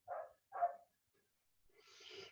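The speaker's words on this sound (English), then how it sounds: "It sounds like it's dinner time for a dog downstairs." A dog barks twice downstairs, faint and muffled by distance, followed by a softer rustling noise.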